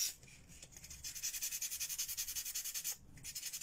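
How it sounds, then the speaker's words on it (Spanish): Sandpaper rubs over a thermoformed plastic head piece for a Mario Bros craft, a fast rhythmic back-and-forth scratching that pauses briefly and then resumes, close and fairly quiet. "Vamos a lijarla."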